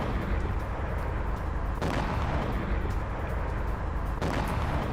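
Explosions from a drone attack in Crimea sound as loud, dense, sustained rumbling blasts, with sharper bursts striking at two points among the continuous heavy booming.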